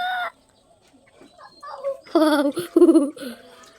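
Several chickens cluck and squawk close by in short bursts, with gaps of quiet between calls.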